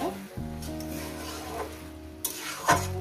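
Cabbage cooks in a pan for a Bengali chorchori, giving a steady close sizzle with a few stirring scrapes and short louder bursts as it is moved around.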